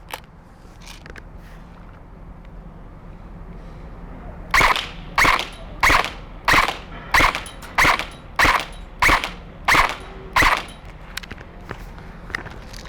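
An EMG Noveske Gen4 AEG airsoft rifle fires ten semi-auto shots at targets 40 feet away, sharp evenly spaced cracks after a few faint clicks, alone and close.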